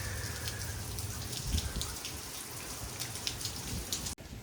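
Steady rain falls during Hurricane Delta in Louisiana, a dense continuous patter of drops on surfaces with a low rumbling wash of wind beneath, loud and unbroken, briefly cutting out near the end.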